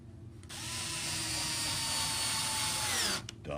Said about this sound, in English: I only need to drill one little screw in.